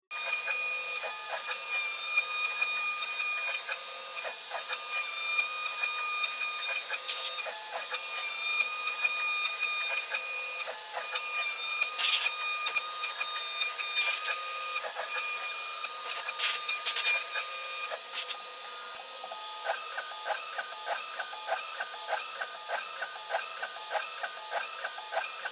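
CNC router with an end mill carving the back body and control cavity of a guitar at 5 mm depth of cut and over 2000 mm per minute, a steady high-pitched machining whine with rhythmic repeating pulses, close and continuous.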